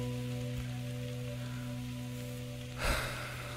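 Rain in the video game That Dragon, Cancer, a steady soft patter over a low droning hum, with a brief louder splash near the end.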